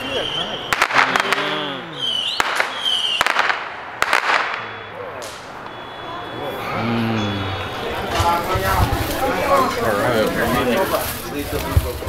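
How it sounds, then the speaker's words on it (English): Fireworks and firecrackers bursting outdoors during Chinese New Year celebrations in Chinatown, Los Angeles, with sharp cracks and pops scattered through the first seconds and later crackling, amid a crowd and people talking nearby. "Fireworks. Can you see them?"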